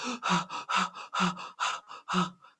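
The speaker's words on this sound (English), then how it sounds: "The fight or flight breathing is this." Rapid, shallow gasping breaths, about eight quick inhale-exhale bursts in a tense, panicky rhythm, close to the listener.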